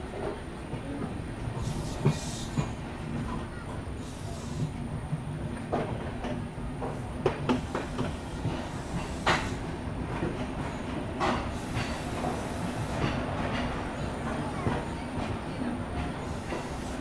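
The 12706 Guntur Intercity Superfast Express arriving at Warangal station, with a rolling rumble, rhythmic wheel clatter and occasional squeals heard from on board, steady and fairly close throughout.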